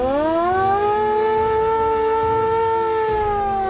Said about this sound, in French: Il y a même la sirène qui servait à réveiller les gars en cas d'alerte.